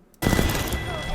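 Peacekeeper shotgun fire in Apex Legends, heard as a sudden loud blast that opens into a dense, sustained roar of gunfire and chaotic combat noise with a voice mixed in.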